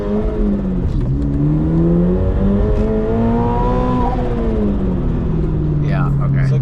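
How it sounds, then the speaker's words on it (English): A 1000 hp carbon-fiber GR86 fitted with a turbocharged 2JZ engine revs loudly and continuously, the pitch sweeping up and back down in smooth waves, with voices faintly heard over it. "it sounds like a turbo car should sound"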